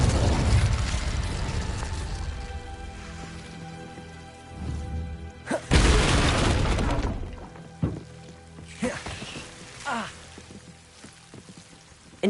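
Spell effects from the Hogwarts Legacy video game, with Incendio and Confringo cast in turn: a broad, loud whooshing blast at mid-clip, then several shorter bursts and crackles over a steady game ambience, with speech throughout.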